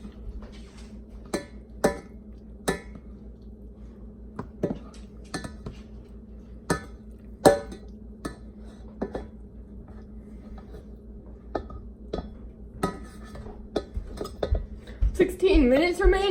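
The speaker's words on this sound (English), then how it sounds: "Just keep stirring." Egg noodles being stirred in a pot, with sharp metallic utensil clinks against the pot at irregular intervals over a quiet background, and voices talking near the end.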